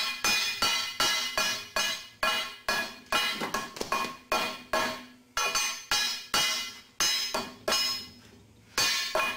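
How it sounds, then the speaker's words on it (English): A ball-peen hammer strikes a steel stud mount welded in place, landing about fifteen loud, sharp metallic blows at a steady, unhurried pace, each ringing briefly before the next, close up with no talking. "Let's weld one and strike it with a ball-peen hammer until it fails."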